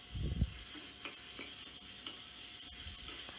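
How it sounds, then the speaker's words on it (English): Finely chopped onion sautéing in a pan, a steady hissing sizzle with a soft thump at the start and a few faint stirring scrapes, no voices. "Now add the finely chopped onion into the pan and then saute well."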